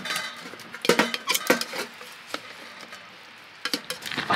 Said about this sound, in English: The trick, you know, of getting a lovely tasty meat is to brown it, because that just, it kind of caramelizes the meat